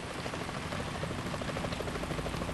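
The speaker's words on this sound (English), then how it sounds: "The chopper." Helicopter in the Metal Gear Solid 2 video game, a steady, loud rotor roar with a faint rhythmic pulsing that continues for the whole stretch without any talk.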